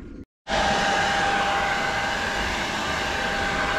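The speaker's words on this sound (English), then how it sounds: "I always knew my hairdryer would come in useful for something," A hairdryer blows steadily and loudly to warm a pipe on a Volvo Penta MD2030 marine engine, starting abruptly after a brief silence and holding a constant whooshing drone with a faint whine.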